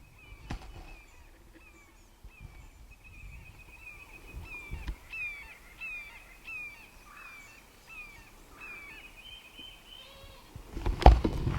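A hawk calls over and over from outdoors, repeated sharp high cries in irregular bursts across the stretch, moderately loud, with a louder clatter of noise at the end and no talking.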